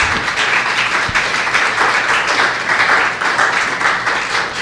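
A church congregation applauds in a steady, dense wash of clapping that runs the full length at moderate loudness, with no voices standing out.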